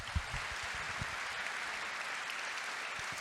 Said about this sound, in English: Can we have a clap for them,